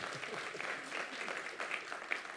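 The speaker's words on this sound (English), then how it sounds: "clap for the earth" Audience applause during a talk on how cities thrive: a steady wash of many hands clapping at once, dense and unbroken for a couple of seconds, moderately loud and heard from within the room.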